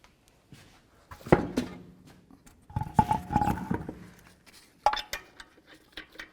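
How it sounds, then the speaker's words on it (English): Metallic clinks and ratcheting clicks from a torque wrench tightening the front wheel lug nuts on a 2009-13 Ford F-150, in several close bursts with pauses between. "torque these to 150 foot-pounds in a crisscross manner."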